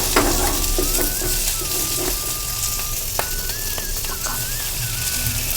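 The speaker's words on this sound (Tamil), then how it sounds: "இப்போ வெங்காயம் வதங்குது" Small onions sauté in a hot pan with a constant close sizzle and occasional stirring clatter, and a faint whistle-like tone sits above the frying; no one speaks.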